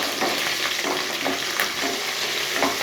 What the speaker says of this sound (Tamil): ரெண்டுமே இப்போ லைட்டாக சாஃப்ட் ஆகிறது வரைக்கும் நல்லா வதக்கிக்கலாம்